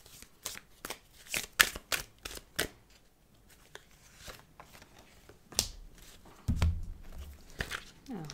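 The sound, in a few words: oracle cards being shuffled for a reading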